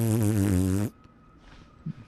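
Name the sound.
mouth-imitated fart noise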